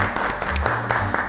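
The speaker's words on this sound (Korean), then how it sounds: "큰 박수로 모시겠습니다" A studio audience applauds to welcome a guest onto a Korean TV show, a short burst of scattered clapping heard close up.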